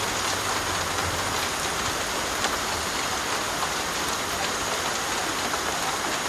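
Steady rain patters on a roof in the jungle of Guatemala, a dense, even hiss of drops with no pauses and no voices.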